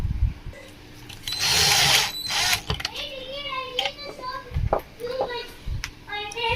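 Power screwdriver driving fitting screws into the motor housing of a Butterfly Pebble Plus mixer grinder under repair: a close whirring buzz in short bursts, with a voice and other talk in the background.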